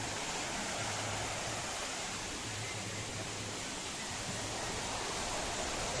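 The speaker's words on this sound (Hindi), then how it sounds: "Dasingbadi waterfall." Dasingbadi waterfall in Odisha: a steady, dense roar of falling water that fills the whole clip evenly, loud and unbroken, with no voices.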